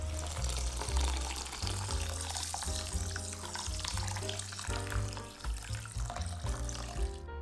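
Broomcorn millet and glutinous rice rinsed under running tap water, a steady close wash with pouring and splashing that stays continuous throughout, with faint music underneath.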